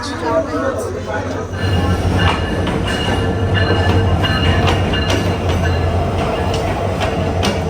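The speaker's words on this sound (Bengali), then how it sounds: "অবশেষে আসতেছে ট্রেন" A train rumbles in with clattering wheels and metallic squeals, the noise building after a quieter start; voices chatter throughout.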